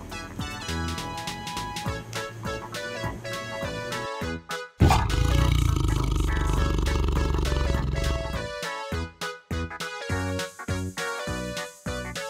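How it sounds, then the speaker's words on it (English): A tiger roars in an animated children's animal-names lesson, a broad rumbling burst lasting a few seconds, partly buried under loud, busy music. "Tiger."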